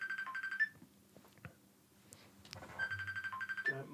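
A phone's electronic ringtone trills in quick repeated pulses, fairly faint and indoors, pausing briefly with some small knocks before ringing again.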